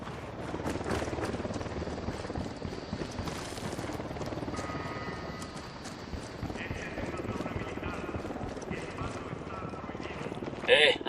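An Unidad helicopter approaching in Ghost Recon Wildlands, a continuous rotor thrum under game sounds and speaking voices, with a louder burst near the end.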